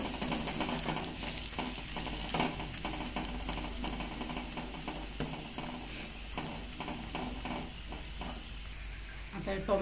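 Curry leaves hit hot oil in a pan with onions for a sprouted moth bean curry, crackling and sizzling loudly and continuously while being stirred, with occasional scraping.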